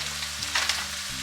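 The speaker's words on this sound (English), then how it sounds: "am browning a roll of sausage and a pound of hamburger" A roll of sausage and a pound of hamburger browning in a pan, a steady close sizzle and crackle with a few brief louder pops, no talking.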